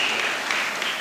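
A congregation claps together at the shrine of St. Anthony in Chapirevula, Nandyal. The applause is a dense, steady patter of many hands, close and fairly loud.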